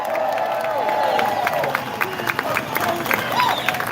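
A rally crowd at a reparations event claps and cheers in a sustained wash of noise, with a few sharper claps and shouts rising near the end.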